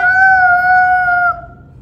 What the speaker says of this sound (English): So now they know, they hear the whistling.